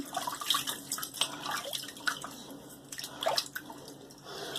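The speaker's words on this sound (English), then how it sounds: "Let me get my face wet." Soft water splashes and drips up close, irregular and light, as cold water is scooped and patted on the face before shaving.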